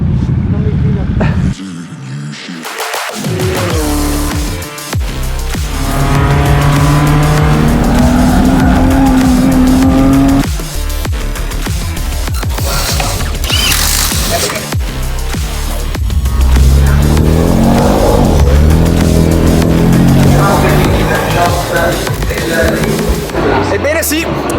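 A BMW M2 is driven hard, its engine revving up and down in loud, rising sweeps, with stretches of tire squeal. People talk over the constant noise.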